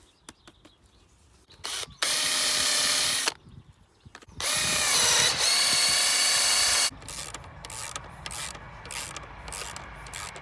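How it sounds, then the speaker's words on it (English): A power drill pre-drills holes into the timber frame corners of a mini hoop house, with two loud, sustained whirring bursts, the second longer, followed by lighter clicking and handling noises close by. "I'm going to pre-drill some holes and then clamp the corners together"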